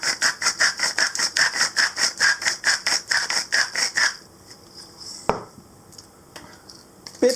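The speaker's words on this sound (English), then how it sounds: "Good grind of pepper." A pepper mill grinding black pepper over creamy mushroom soup, a rapid run of about a dozen rhythmic crunching twists for four seconds, close and fairly loud, then quiet with a couple of faint knocks.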